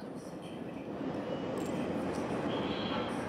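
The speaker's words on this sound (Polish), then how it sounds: "I pociąg." A train rumbles past in the video game Syndicate, a dense, steady rolling roar that swells slightly and holds loud throughout, with faint higher tones on top.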